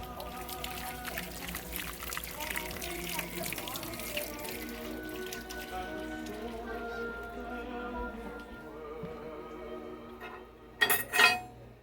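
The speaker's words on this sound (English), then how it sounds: "I'm going to wash my hands real quick." Tap water runs into a kitchen sink for hand washing while cooking chile rellenos, a steady splashing wash under household talk and clatter, ending with a few louder bursts near the end.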